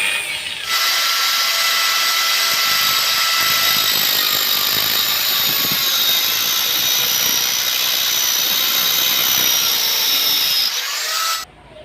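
A power tool whines steadily and loudly, close by, as it cuts PVC for a miniature truck wheel, running for about ten seconds before stopping abruptly.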